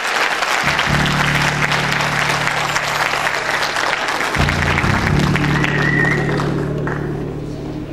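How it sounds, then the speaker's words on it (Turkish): Loud, sustained audience applause for a folk singer at a live performance fills the clip, with steady sustained musical tones underneath and a brief high tone near the end. "Alkışlıyoruz."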